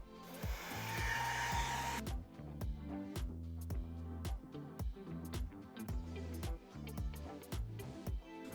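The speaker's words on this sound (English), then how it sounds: "that's why I get a hairdryer." A hair dryer blows steadily and loudly on glued pieces of an Ultramarine helmet for about two seconds, then gives way to rhythmic music with regular beats.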